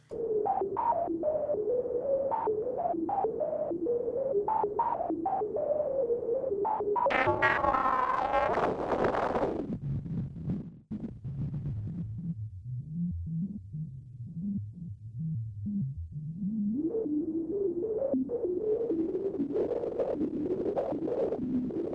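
A steady, resonant ARP Odyssey synth tone of filtered noise with high resonance, a whistling pitched edge that shifts and sweeps, briefly bursting brighter before settling into a lower throbbing drone.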